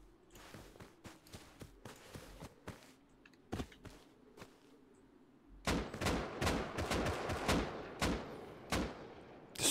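Gunfire in the survival game Rust as players shoot from the windows of a base, with distant scattered shots that turn into a louder, dense string of cracks partway through.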